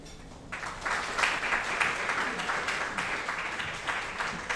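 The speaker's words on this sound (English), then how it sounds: "please join me in welcoming with a warm round of applause" Audience applause welcoming a speaker at a mining industry club event in the Philippines: a warm round of clapping from a crowd that starts suddenly and holds steady until it stops.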